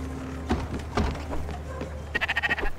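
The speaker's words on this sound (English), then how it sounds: "These sheep get hungry fast." Sheep bleat in the video game Spiritfarer, a few short calls with soft thuds and then a louder wavering bleat near the end.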